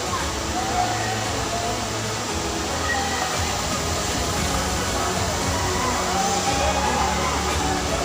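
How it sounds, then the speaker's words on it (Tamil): The Kovaikutralam waterfall pours in a continuous broad rush of water, loud and steady throughout, with faint indistinct voices beneath. "அருவி அப்படியே வந்து இப்படி வருது."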